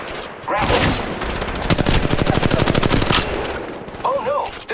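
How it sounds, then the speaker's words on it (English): Rapid automatic gunfire from Apex Legends Mobile gameplay, a dense burst of sharp shots lasting nearly three seconds, loud and close, followed by quieter game sounds with a short electronic chirp near the end. "Shooting"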